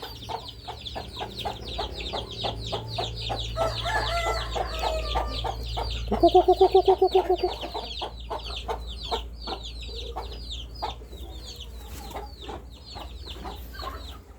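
Burmese chickens in a garden pen cluck repeatedly in quick close bursts, with a rooster's crow ringing out near the middle over a low background hum.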